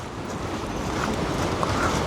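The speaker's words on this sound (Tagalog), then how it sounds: "Narinig niyo yung agos? Agos ng ilog yata" Rushing river current, a continuous broad wash of water with a wind-buffeted roar, steady and close, with no voices.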